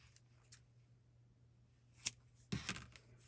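Scissors snip through yarn after finishing a crochet i-cord, a couple of quiet, close crisp cuts near the end amid faint rustling.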